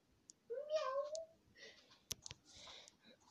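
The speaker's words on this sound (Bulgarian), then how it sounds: "Аз чух котенце." In a blocky building video game, a kitten gives one clear, quavering meow, followed by a few sharp clicks and soft game noises at low volume.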